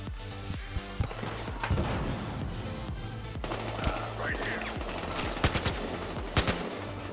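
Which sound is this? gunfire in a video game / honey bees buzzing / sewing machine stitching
gunfire in a video game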